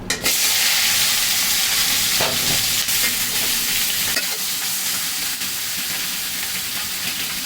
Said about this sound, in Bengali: আর এই গুলটা মাছ কিন্তু ডিমওয়ালা মাছ যেগুলো একটু ছিটে সাবধানে ভাজতে হবে